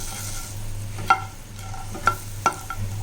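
Spices for rasam powder dry-roast in a pan under a low steady hum, with a few distinct scraping knocks of a spatula stirring them and no talk.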